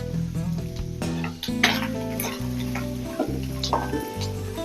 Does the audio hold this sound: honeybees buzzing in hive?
no